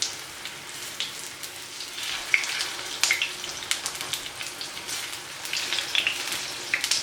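Banana fritters frying in hot oil in a pot, a steady close sizzle with scattered sharp pops and crackles and no voices.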